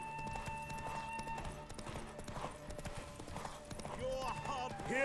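Roach, Geralt's horse in The Witcher 3, gallops during a derby race, a rapid steady clip-clop of hooves with game music and voices underneath.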